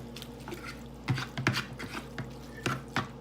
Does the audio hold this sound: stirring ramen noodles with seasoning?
yes